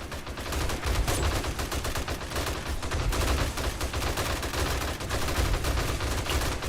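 Dense, continuous gunfire from a 7 Days to Die horde fight as zombies climb a concrete wall, rapid shots blending into a steady loud roar with no break.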